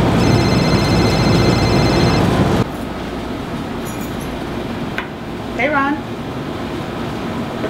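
A mobile phone rings with a steady electronic tone for about two seconds, heard outdoors under people chatting. After the ringing stops, the conversation continues with light background noise.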